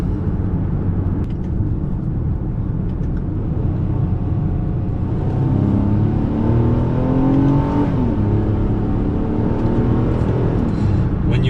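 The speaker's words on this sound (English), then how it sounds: "When you rev it out, it's really kind of fun." A 2022 Nissan Pathfinder's engine revs up while driving, a loud continuous drone heard from inside the cabin that climbs steadily in pitch, eases briefly, then rises again.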